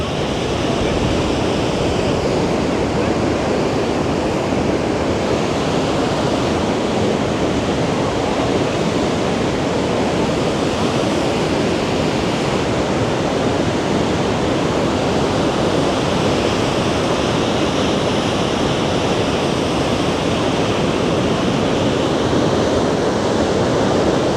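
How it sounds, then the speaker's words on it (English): A steady, loud roar of falling water fills the whole clip, broadband and unbroken, like standing right beside Montmorency Falls in Québec. "Noise from the waterfall."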